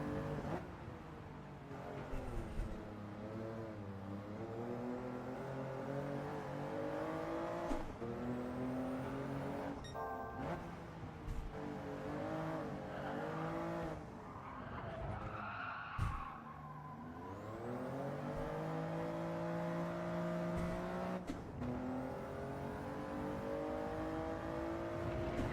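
Race car in Gran Turismo 7 during a time trial, its engine revving up and down through gear changes with repeated tire squeals as it slides into corners, loud and continuous.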